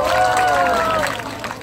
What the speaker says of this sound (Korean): 우리 저기 몽실에게 박수 한번 쳐주세요